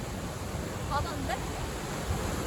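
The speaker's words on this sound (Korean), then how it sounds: "파도도 친다" Waves breaking on a sunny shore near Toronto, a steady broad wash of surf rolling continuously and fairly close, with no distinct voices over it.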